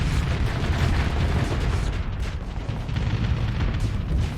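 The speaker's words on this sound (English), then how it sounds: "That was a vicious barrage." A weapon barrage in the Starsector space game pounds continuously, with dense overlapping explosions and deep booms forming a loud, unbroken roar throughout.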